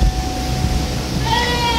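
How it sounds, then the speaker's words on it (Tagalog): A goat bleats on a quiet rural farm, a steady nasal call sitting over constant outdoor background noise, with no one talking. "kambing"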